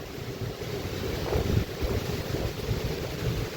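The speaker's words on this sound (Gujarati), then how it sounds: "વાવાઝોડું છે." Strong storm wind during unseasonal summer rain over fields of bajra in rural Gujarat, roaring steadily as a broad noisy rush with buffeting gusts against the microphone, no voices.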